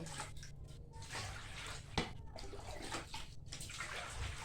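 Rice-field crabs being washed in water, with close sloshing and splashing that runs on throughout, broken by one sharp knock and light drips, all fairly quiet.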